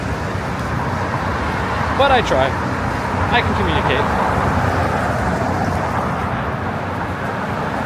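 Traffic moves along a Manhattan street on a February evening, a steady loud roadway rumble under someone talking nearby.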